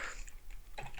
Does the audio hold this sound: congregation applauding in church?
no